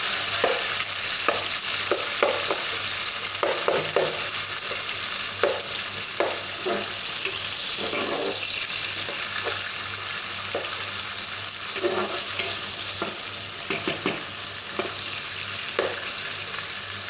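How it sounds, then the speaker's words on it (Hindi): Tomatoes frying into a masala for fish curry in a pan, a steady loud sizzle with repeated scraping strokes of a spoon stirring throughout, no voices. "अब हम इसमें टमाटर डालेंगे और इसका अच्छी तरह से मसाला बना लेंगे।"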